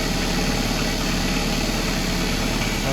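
Kubota tractor engine idling around 1,050 RPM after a cold start on a cold day, a steady close diesel chug with a constant low rumble and vibration, alone with no voices.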